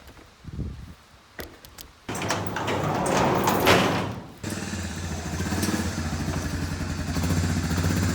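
Large sliding barn doors on a farm rolling along their tracks, with a few thumps and clatters, then a long grinding rumble that ends in a knock, followed by a steady low hum. Close and fairly loud, with no talk.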